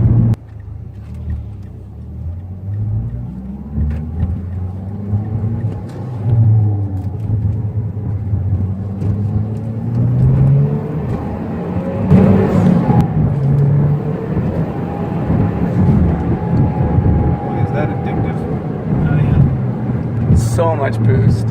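Aftermarket turbocharged car accelerating hard, its deep engine rumble and rising boost whir building steadily beneath ongoing talk from people inside.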